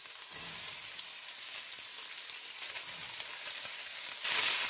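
Steady, crackling sizzle of vegetables frying in hot olive oil in a pot, continuous and close, with a brighter hissing burst near the end.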